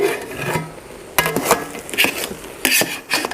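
Biryani being stirred in a cooking pot: a close, loud series of scraping and clanking spoon strokes against the metal pot over a soft bubbling sizzle.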